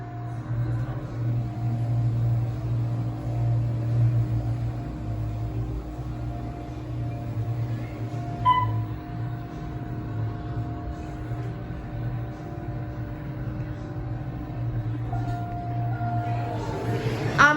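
An Otis elevator motor in a restaurant hums steadily with a constant mechanical drone, a faint click near the middle and a rising whine toward the end.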